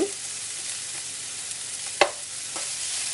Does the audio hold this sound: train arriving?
no